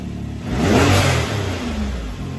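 A single engine rev on a Can-Am Maverick X3 XDS turbo UTV swells and drops, ending in a short hissing whoosh of an aftermarket turbo blow-off valve releasing pressure.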